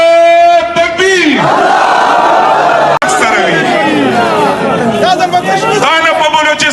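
A protest crowd at a political rally in Peshawar, shouting slogans together in loud, sustained waves. Voices rise and fall with a brief break near the middle, and babble and shouting fill the space between the chants.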